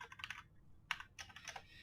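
Quiet, rapid clicking of keys typed on a computer keyboard, in short irregular bursts with brief pauses, close and alone.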